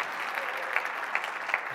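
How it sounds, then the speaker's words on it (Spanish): An audience applauds at a children's concert, a brief, dense burst of many hands clapping steadily, fairly close, with no voices. "Si les caen bien, denles otro aplauso, por favor."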